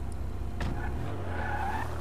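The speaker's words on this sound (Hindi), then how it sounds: "ज़रा गाड़ी को बाहर निकालता हूँ" A car in GTA 5 pulls out with a short tire skid and a rising engine note, close and fairly loud over a steady low rumble, with no talking.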